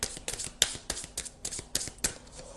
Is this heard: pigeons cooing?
no